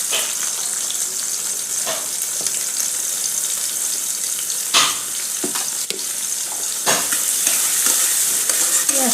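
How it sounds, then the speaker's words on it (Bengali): Chopped onions fry in oil for masoor dal, a steady bright sizzle close by, broken by a few scraping stirs and clatters of a utensil in the pan, with no talk. "পেঁয়াজটা বাদামি কালার করে ভেজে নেব।"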